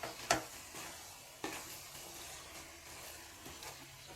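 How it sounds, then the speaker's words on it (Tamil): Egg keema gets stirred lightly in a pan, giving a faint low sizzle with a few sharp scrapes and taps of a spoon against the metal, quiet and close, with no talking. "இப்போ மேலோட்டம் நல்லா கிளறி விடுங்க"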